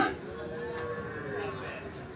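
Cattle at a livestock market in Ambari, Dinajpur, one long drawn-out moo close by and fairly loud, with murmuring market noise behind it.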